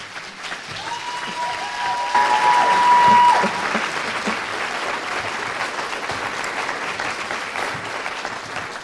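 An audience at an art program welcoming artist Judy Chicago breaks into sustained applause that swells briefly and then continues at a steady level, with a faint tone and some crowd noise beneath.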